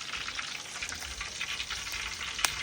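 Crispy Thai pork belly deep-frying slowly in oil over low heat, a steady dense sizzle with fine crackling pops throughout and one sharper spit near the end, no voices.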